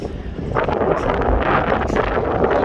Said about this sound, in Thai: ลมแรงมา